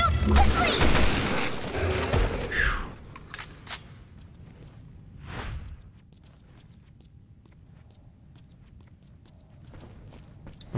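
Gunfire against a monster in Resident Evil Revelations 2 comes as a loud burst of rapid shots at the start, then a few scattered single shots and thuds fading into quieter background.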